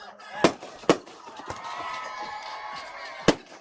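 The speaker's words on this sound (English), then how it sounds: "Got the fireworks going off here." Fireworks burst after a touchdown at a high school football game, Loretto versus Cornersville, with four sharp, loud bangs spaced irregularly over a steady outdoor crowd and band din.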